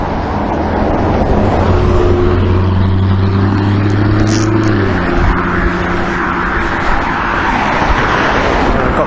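Cars drive along a narrow road, a loud steady engine and tire drone that stays close throughout, with a tonal hum that rises and shifts as vehicles pass.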